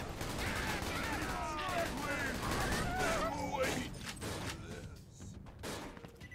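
A shotgun in Borderlands 2 fires repeatedly in dense, punchy blasts, loud and close, layered with game effects. Someone talks over the shots throughout.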